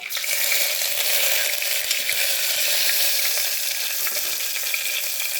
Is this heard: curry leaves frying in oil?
yes